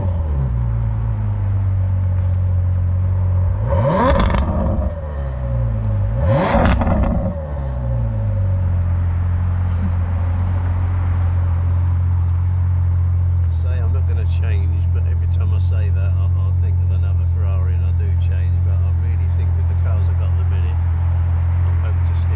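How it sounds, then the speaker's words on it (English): A Ferrari F12 Berlinetta V12 engine revs hard twice in quick succession, loud and close, each rising then falling, before settling into a deep steady idle rumble with a voice speaking over it. "the main thing about these cars is is the V12"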